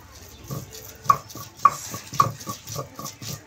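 Soaked chana dal is ground by hand on a traditional stone slab in a village kitchen, the stone rolling in a steady rhythm of rough scraping, grinding strokes with dull knocks roughly every half second, close and fairly quiet.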